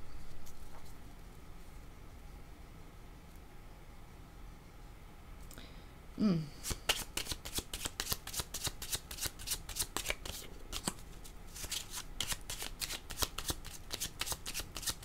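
Tarot cards riffle-shuffled in a quiet room, a brief swishing slide giving way to a long run of rapid, crisp flutters and snaps from about six seconds on, close and fairly loud.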